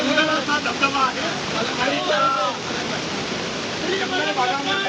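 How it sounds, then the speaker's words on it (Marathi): Malanggad waterfall in a forest setting roars in a steady, broadband rush of falling water, with several voices chatting and calling over it. "सुंदर असा धबधबा आहे"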